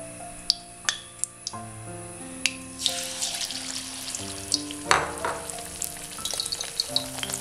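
Batter-coated panikoorka leaves for bajji are dropped into hot oil, setting off a bright, crackling sizzle that swells after a few sharp clinks and keeps bubbling steadily up close.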